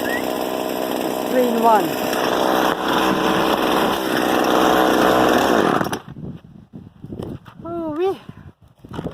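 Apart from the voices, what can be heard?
pull-start chainsaw running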